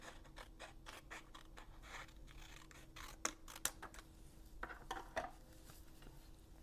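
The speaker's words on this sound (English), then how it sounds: "use my snips to trim off the excess" Snips trim excess card paper off a handmade greeting card, a quiet series of close, crisp snipping and cutting clicks with light rustling of paper between them.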